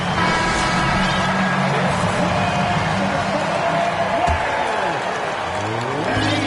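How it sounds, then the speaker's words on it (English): A basketball arena crowd applauds the Houston Rockets, a dense, sustained roar and clapping that stays loud the whole time without letting up. "Please give a big round of applause for your Rockets."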